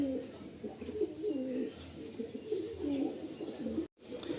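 Pigeons in a loft coo softly in repeated low, rolling calls, several birds overlapping at a steady pace, quiet and close, with a brief dropout near the end.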